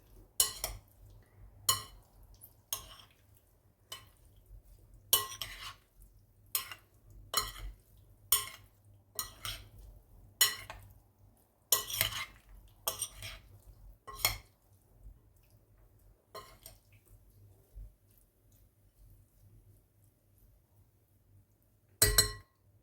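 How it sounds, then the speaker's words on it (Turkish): A broccoli, artichoke and avocado salad being tossed with its dressing in a bowl, giving a steady run of light clinks and taps of utensils against the dish over a faint low hum, no talking. "Şimdi artık sosumu salatamın üzerine ekliyorum. Şöyle bir karıştıracağım."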